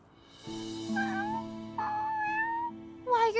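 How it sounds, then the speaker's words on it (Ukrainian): A kitten meows in a Ukrainian-dubbed Winx Club cartoon, with three clear, rising, plaintive calls over a sustained musical tone. "Кошенятко."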